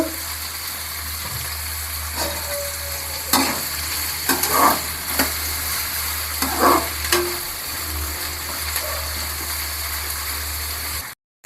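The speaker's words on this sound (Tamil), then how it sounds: "வெங்காயம் நல்லா வதங்கி வரட்டும்" Steady sizzling of salted onions sautéing in a pan for kara kuzhambu with okra, with occasional stirring scrapes and clinks, a low hum underneath.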